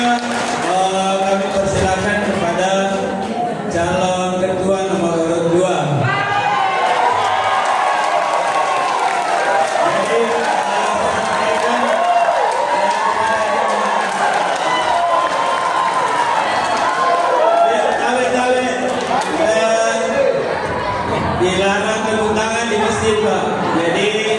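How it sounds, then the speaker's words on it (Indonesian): An audience at a mosque chairman election claps and cheers for candidate number one, a dense, sustained crowd noise mixed with loud talking from a speaker over the top throughout. "Beri aplaus dulu untuk nomor urut 1"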